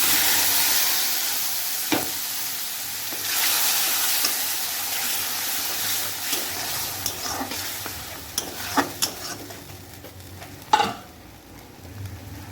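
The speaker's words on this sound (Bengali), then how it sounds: "ভালো করে মশলাটা ভাজা হয়ে গেলে এবারে মশলা পেস্টটা দিয়ে দেবো আমি।" A spice paste of tomato, ginger, melon seeds and poppy seeds fries in a pan with a loud, steady sizzle that gradually softens, broken by sharp spatula scrapes and clicks toward the end, with no talking.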